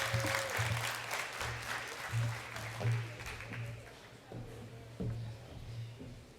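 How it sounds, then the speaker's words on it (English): Applause at a summit welcome session greets a keynote speaker to the stage, moderate clapping from a crowd, fairly faint, mixed with intermittent voices. "Let's give her a round of applause"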